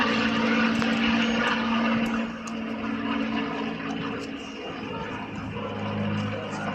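A loud, sustained airplane engine roar during an aerobatic barrel roll at an airshow, with a steady tonal drone, dipping slightly in level midway before swelling again; no voices.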